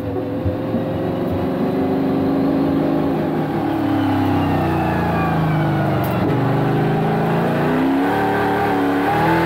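Race car engine from a EuroNASCAR racing video game, heard pulling onto the track on worn-out tyres: a loud, continuous engine drone with rising and falling revs throughout, with no talking.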